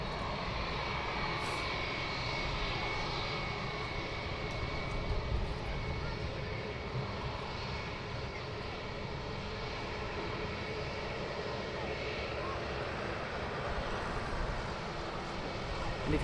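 Aircraft landing at London Luton Airport: a continuous, fairly distant engine roar rumbles steadily for the whole stretch, with no voices over it.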